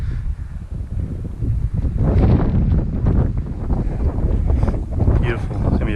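Wind gusts buffet the microphone on a rocky summit in the Wichita Mountains, a loud, steady low rumble that swells and surges throughout.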